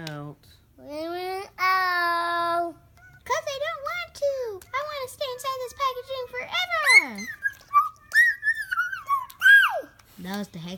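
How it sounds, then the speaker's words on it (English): A Hexbug Nano toy makes high, chirpy babbling sounds like garbled talk, close and fairly loud, in varied bursts with pitch sweeps across about ten seconds. "That was the Hexbug talking"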